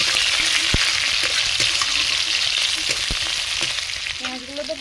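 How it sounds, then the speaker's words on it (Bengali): Onion pieces fry in mustard oil tempered with cumin, giving a loud, unbroken sizzle up close with scattered crackles and pops throughout. "ভালো করে পেঁয়াজগুলো ভেজে নেব"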